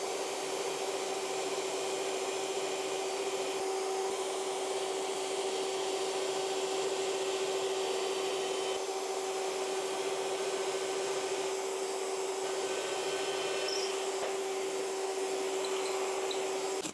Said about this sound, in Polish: Pozycjonujemy sobie miejsce, w którym będziemy chcieli wykonać nasz przelotowy otwór,